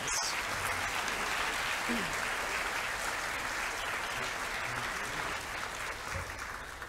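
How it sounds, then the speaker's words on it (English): An audience at a college assembly applauds boys who have just performed on stage, a steady, full round of clapping that holds for several seconds and eases slightly at the end, with faint voices underneath. "Could we give these boys a round of applause, please?"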